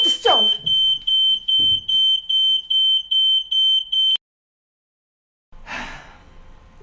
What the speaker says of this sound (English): I set the fire alarm off because I left my food cooking in the stove and it burned.